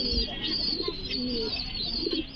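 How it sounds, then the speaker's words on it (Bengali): Lakka pigeons coo softly on a farm, low murmuring calls repeating over a constant high-pitched background hum, with a few faint chirps mixed in. "আমার কাছে এরকম প্রায় 10-12 জোড়া কবুতর আছে, লক্ষা কবুতর।"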